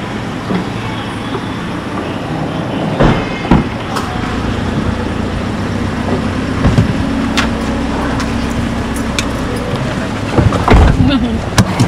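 A car rolls along a road in Palawan between San Vicente and El Nido, heard from inside as a loud, steady engine and road rumble broken by a few sharp bumps and jolts.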